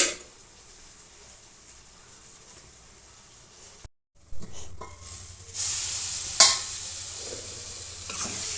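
Chemagadda charu curry cooks down in a pan, sizzling and hissing steadily after a short quiet stretch, with a stir or clatter partway through and the frying growing louder toward the end.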